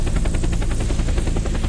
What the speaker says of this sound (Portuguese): E o helicóptero.